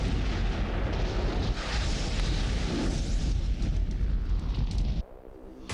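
An M777 ultralight howitzer firing an M982 Excalibur shell gives a loud, sustained roaring blast that fills the space for about five seconds before cutting off abruptly into quieter rumble.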